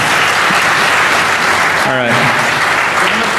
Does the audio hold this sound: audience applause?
yes